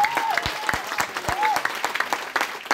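During a Christmas church service, a congregation claps in praise, a loose patter of claps heard alongside a preacher's voice and short vocal calls over the top.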